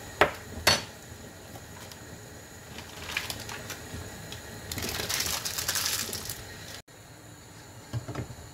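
Custard mixed with grainy sugar pieces in a bowl, a spoon scraping and clinking against the sides with a couple of sharp knocks and a louder gritty stretch of stirring, close and fairly quiet.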